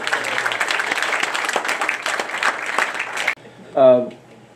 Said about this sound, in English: Everybody give Terry Woodford a round of applause, please.